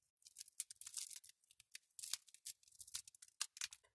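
Scissors snipping excess gauze wrapped around an egg being dyed for Easter, a quick series of quiet, close cuts and crinkles.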